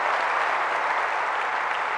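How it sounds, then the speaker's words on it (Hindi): Dense, steady applause from a hall audience at a spiritual talk, many hands clapping loudly and evenly throughout with no voices over it. "जोर से ताली बजाएं"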